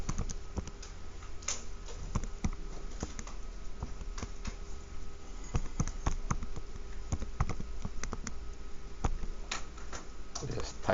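Calculator buttons pressed in quick, uneven bursts, giving a steady patter of small sharp clicks and taps close by over a low background hum across the whole stretch.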